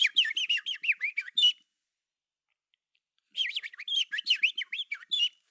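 A person whistles in quick, bird-like chirping trills, imitating birdsong in two bursts of rapid warbling notes separated by a few seconds of silence, close and clear.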